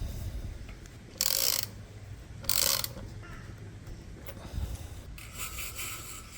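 A tool works a bolt on a Shimano rear derailleur of a Merida E160 8000 e-bike, giving two loud ratcheting bursts followed by softer clicks and rubbing, close and quiet with no talk.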